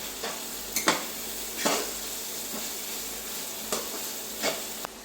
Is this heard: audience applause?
no